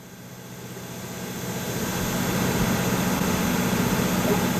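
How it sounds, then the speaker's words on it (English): Ground power unit engine running in the Airport Sim airport game, a steady droning engine hum that swells over the first couple of seconds and then holds at a constant level, alone without talk. "switch the engine setting knob from idle to run"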